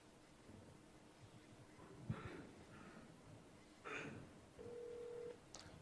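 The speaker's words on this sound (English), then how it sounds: "I will make a call to my specific UCC." A mobile phone places a call, with quiet scattered dialing beeps and a sustained tone near the end over a faint background hum.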